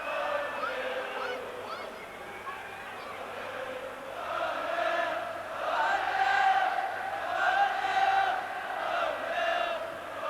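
Football stadium crowd at a Wales versus Brazil match cheering for Wales, a dense roar of many voices swelling and rising in waves, loud and continuous throughout with no single voice standing out.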